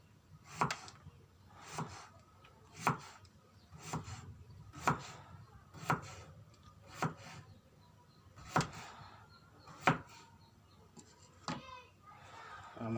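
Knife chopping through turmeric root on a board: about eleven sharp, evenly spaced cuts roughly one per second, close and clear, with faint background hum.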